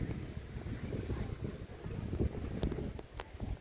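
Wind gusts in an open, exposed spot at a hilltop camp and cafe in Bukidnon, a steady rough rumble that swells and buffets without pause.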